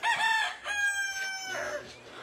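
A rooster crows on a rural Filipino farm, one long clear cock-a-doodle-doo rising and falling near the listener, with faint hens in the background.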